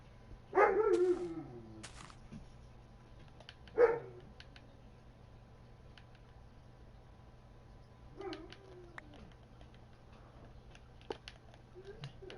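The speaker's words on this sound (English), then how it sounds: "my dog yawned." A dog yawns indoors, giving two brief squeaky, whining yawn sounds close by, followed by a fainter one later against a quiet room with light ticking.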